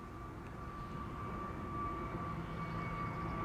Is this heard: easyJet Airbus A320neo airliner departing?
yes